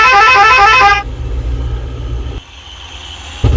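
Horn 1 of a bus in the Bus Simulator Indonesia game sounds a loud, close melodic toot for about a second, then cuts off, leaving a low idling engine rumble.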